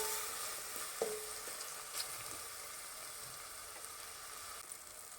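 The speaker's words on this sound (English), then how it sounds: "Tomato I will saute till it becomes soft, at least 4 to 5 minutes." Tomatoes sauté in a pan for a Goan squid curry, a faint even hiss of frying with a couple of light utensil taps early on, quiet and without voices.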